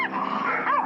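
A dog named Peanut giving a short, strained bark-like growl, close and loud, lasting under a second.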